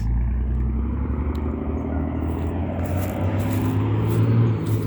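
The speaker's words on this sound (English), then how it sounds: "It's a pretty loud truck." A loud truck passes on a road, a heavy low rumble holding steady and swelling slightly near the end, with faint rattles on top and no talking.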